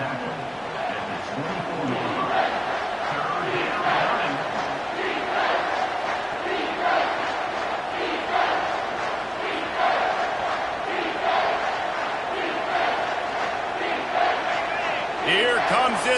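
Home crowd roaring steadily at a college football game on third down, a dense, sustained wall of cheering and shouting with rhythmic swells, heard alone without nearby talk.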